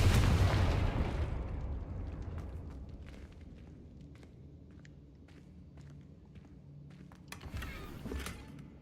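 Confringo blasting spell from Hogwarts Legacy bursting with a loud, close explosive boom at the start, then decaying into a quieter rumble with scattered small pops and debris crackles.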